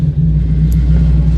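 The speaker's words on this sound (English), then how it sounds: "You can This just is it. listen to the engine." Close, loud, steady low rumble of a 1991 Camaro Z28 five-speed idling, an even throbbing drone with no talk over it.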